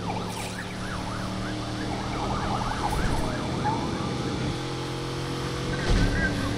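Police car siren wailing in the street-racing game Need for Speed Unbound, its rising and falling tones repeating loudly over steady engine drone.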